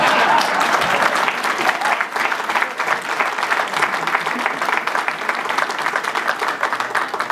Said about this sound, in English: I don't have an applause sign, but this would be appropriate.